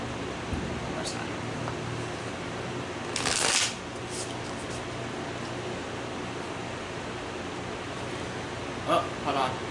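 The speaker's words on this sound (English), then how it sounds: "Someone told me to shuffle one more time, so I'll do that." A deck of cards is shuffled in a quiet room, with two short crisp riffling bursts separated by several seconds of faint background hiss.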